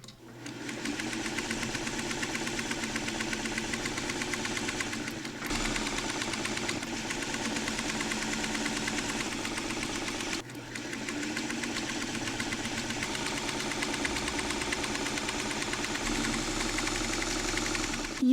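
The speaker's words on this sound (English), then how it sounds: "You've seen me sew this row together." A sewing machine stitches a quilt row together, a fast, steady mechanical whirring close by, pausing briefly twice before running on again, with no talking.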